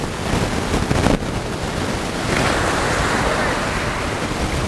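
Ocean waves wash onto a beach in Bali, a steady close surf roar with a swell in the second half and some wind buffeting the microphone.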